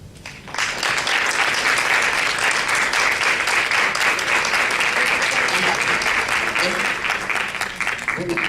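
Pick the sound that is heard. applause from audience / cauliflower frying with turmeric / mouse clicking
applause from audience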